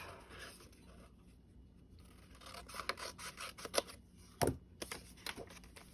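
Scissors snip through folded paper while a journal page is trimmed for a genealogy layout, a run of quiet, crisp cuts with a sharper clip near the end, close and alone.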